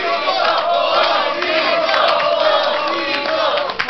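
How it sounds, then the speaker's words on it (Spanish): A crowd cheers and yells continuously, loud and close, with dense shouting voices and possible applause throughout, for a performer called Osito at a live comedy-style show. "Un aplauso para Osito."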